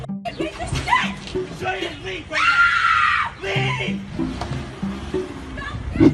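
A person screams loudly and close after a cup of coffee is thrown in their face at a drive-through, a sustained shriek surrounded by shouting voices and commotion.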